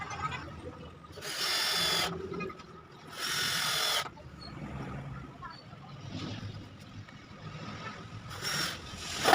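A power drill driving screws into a wooden DIY decline bench, two loud whirring bursts of about a second each, a quieter stretch of handling noise, then a further short buzz at the end.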